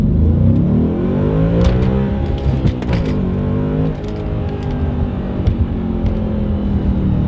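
An Audi B7 RS4 engine revs hard in first, its pitch climbing before a brief dip and drop at the shift to second, then pulls on with a loud, steady drone and some mechanical clicks, heard close from inside the car.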